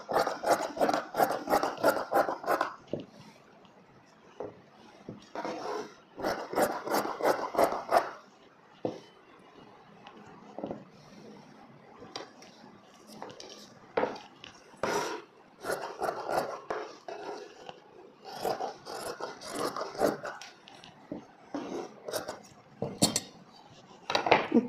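Scissors cutting through chudithar cloth, with irregular bursts of crisp snipping and rasping strokes, clustered at times and separated by quiet pauses, close and fairly loud, no talking.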